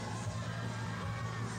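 Crowd at the 1991 Nationals heavyweight and overall bodybuilding contest cheers and shouts steadily in a hall, a continuous roar of voices with no break.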